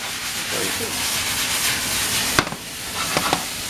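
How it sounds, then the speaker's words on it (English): Chicken stir fry searing in a hot pan: a steady close sizzling hiss, with a few clinks and scrapes of utensils near the end. "That's already searing up."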